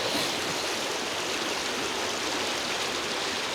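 A Scottish countryside burn flows steadily, its broad hiss of running water close and continuous with no voices.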